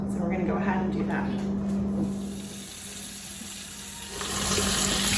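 Well water runs from a kitchen tap for a pot of beef stock, a steady rushing flow that fades midway and then swells louder again near the end.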